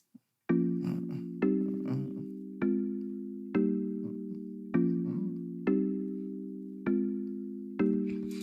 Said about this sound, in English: I added this soft mallet also from my one shots